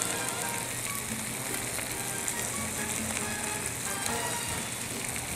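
Pulled pork adobo flakes frying crisp in olive oil, a dense continuous close sizzle and crackle, steady and bright from start to finish with no talk.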